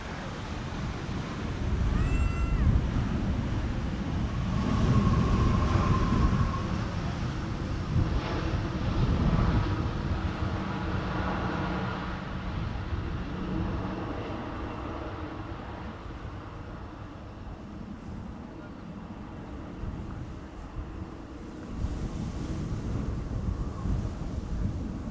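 Aircraft pass overhead near Amsterdam Schiphol Airport under cloud cover, a low distant rumble that swells and slowly fades, mixed with wind buffeting the microphone.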